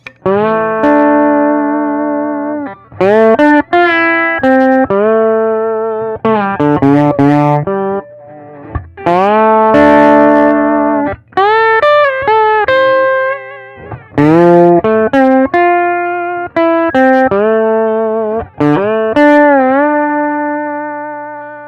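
Slide guitar through a clean Nordin Champ tube amp, notes gliding between pitches, warm and slightly driven, played in phrases with short pauses, loud and close with no voices.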